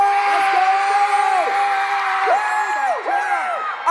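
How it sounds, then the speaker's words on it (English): A big crowd screams and yells at full volume, sustained shrieks and whoops from many voices blending into a loud, continuous roar. "I want you all to just scream as loud as you can"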